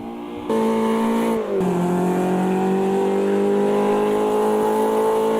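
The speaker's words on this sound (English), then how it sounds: "Nice little raspiness from the exhaust actually." A BMW 2002 Turbo engine in the Automobilista 2 racing game drones loudly and steadily under load after a short gear change, its raspy exhaust note holding a sustained pitch with no talking.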